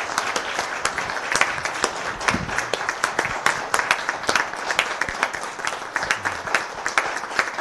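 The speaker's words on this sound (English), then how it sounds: "this is time for applause." At a city council meeting marking Fallen Law Enforcement Officer Day, the audience claps for several seconds in a crisp, fairly close, even stream of individual hand claps that holds steady throughout.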